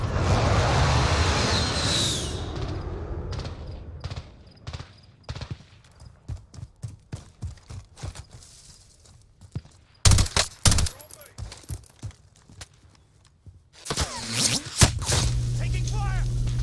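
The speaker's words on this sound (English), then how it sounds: "Taking fire!" Gunfire in Call of Duty Warzone, scattered single shots and short rapid bursts spread across the stretch, some loud and close, others fainter, with game voice lines and ambient noise between volleys.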